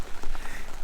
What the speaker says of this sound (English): it has not stopped raining